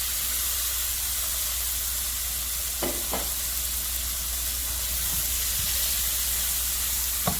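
Garlic sautéing in a hot pot sizzles and hisses steadily throughout, with a few brief stirring clinks and scrapes over the continuous frying noise.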